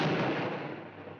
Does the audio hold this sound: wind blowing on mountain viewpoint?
no